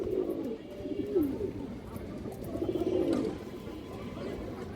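Pigeons coo in low, throaty rolling phrases, two clear bouts close by with soft background murmur and faint breathy noise between calls.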